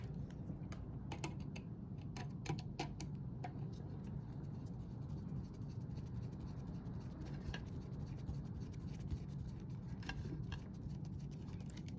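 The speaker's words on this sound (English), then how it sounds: "It takes a bit of time to screw it in." A pulsar unit is fastened onto an H4000 water meter with two screws, giving sparse irregular clicks and faint scratching from the screwdriver under a steady low background hum, with no talk.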